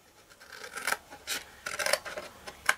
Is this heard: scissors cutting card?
yes